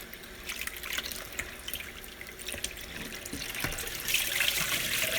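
Cold well water runs steadily over freshly churned butter being rinsed, giving a continuous close splashing and trickling with no talk.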